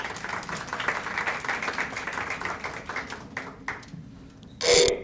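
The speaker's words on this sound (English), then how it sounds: "So a round of applause for our keynote speaker" Audience applause for a keynote speaker at an education event, a sustained spread of clapping that thins and fades out, ending in a brief louder burst.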